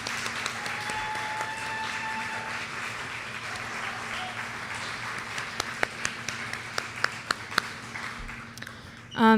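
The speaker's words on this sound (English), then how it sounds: "I think we should give Michelle another round of applause because that was really moving" Audience applause at a community, culture and race forum during the Concert of Colors, a steady sustained clapping from a sizable crowd with scattered sharper individual claps, tapering near the end before a final loud knock.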